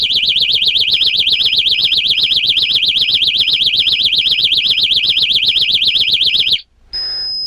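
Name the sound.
PowerFleet vehicle impact alarm with countdown timer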